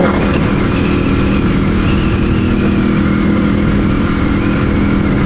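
Loud, steady engine drone and wind roar of a motorcycle being ridden, close and continuous with no pauses or voices.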